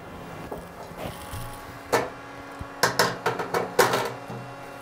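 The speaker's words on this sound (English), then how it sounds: "insert the CT stage into the machine" A Quadra CT sample stage slides into a micro-CT machine, giving a series of sharp mechanical clicks and clacks, one isolated then several in quick succession, set against a quiet room hum.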